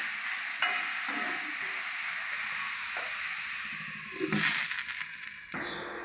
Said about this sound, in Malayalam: തക്കാളിയൊക്കെ ഒന്ന് വാടി വരുന്നവരെ ഒന്ന് ഇളക്കി മൂടി വെച്ച് വേവിക്കാം